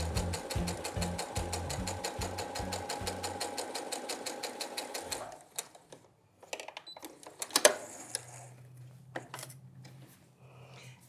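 An embroidery machine stitches down washaway stabilizer in a hoop, giving a rapid, steady mechanical chatter for about five seconds before it stops, followed by scattered handling clicks and light rustling.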